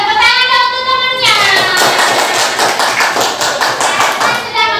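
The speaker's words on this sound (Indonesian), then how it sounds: "Tepuk tangan dong untuk temannya." A classroom of young children claps for a classmate, bursting into quick, rhythmic group clapping after a held tone, close and lively, with small voices mixed in.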